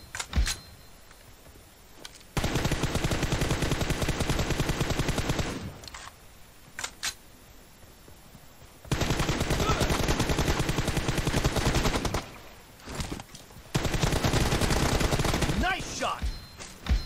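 Long sustained bursts of automatic gunfire in a team deathmatch shooter, loud and close, several extended volleys separated by short pauses with sporadic single shots between them.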